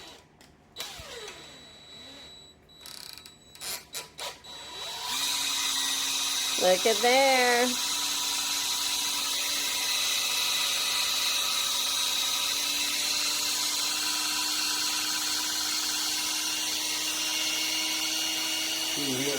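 An electric drill spins the oil pump of a rusty, seized sewing machine through a barbed adapter, a sustained high whine running steadily after a few short starts, close and loud, while a person speaks briefly over it.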